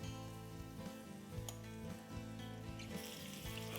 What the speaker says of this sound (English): Sizzle, sizzle, that's what I want to hear.